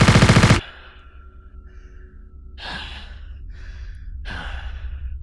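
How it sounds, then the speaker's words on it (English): Heavy breathing of the player character in SCP: Labrat, two slow, drawn-out, audible breaths after a brief loud burst, close and alone against a quiet low hum. "I hear my breathing."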